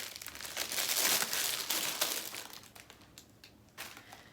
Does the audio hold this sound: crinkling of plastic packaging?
yes